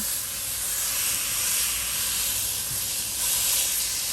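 Ground beef sizzles steadily in a hot pan while cooking down for chili, a loud, continuous, bright hiss that stays even throughout with no voices.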